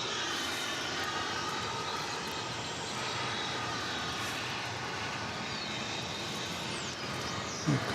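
An airplane on final approach from the north to runway 18 right at DFW Airport gives a steady, broad engine roar that holds evenly throughout, with no voices.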